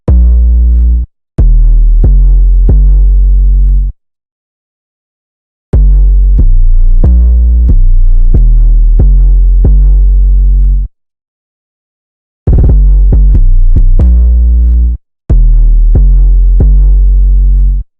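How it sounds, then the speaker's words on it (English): A deep, booming 808 bass in a hip-hop beat plays a melodic pattern of separate notes in phrases, with gaps of silence between them. "So let me just play the 808 real quick."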